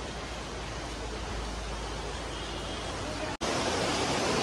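A stream flows through the middle of a temple. Loud, steady rushing water surges without pause, with one split-second dropout near the end.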